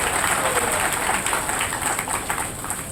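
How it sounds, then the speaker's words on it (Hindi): An audience claps at an oath-taking ceremony for a transport union's newly elected officials in Bhanupratappur, a dense, fairly loud burst of applause that tapers slightly toward the end. "आप सब अपने आप अपने लिए एक बार ताली बजा दीजिए"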